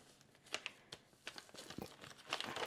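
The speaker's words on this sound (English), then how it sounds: "I'm gonna just compress it to get as much air out as I can before I fully zipper it" Zipper bag of freeze-dried broccoli squeezed to push the air out, giving soft crinkling plastic rustles and a few sharper crackles in quick irregular bursts, close and fairly quiet.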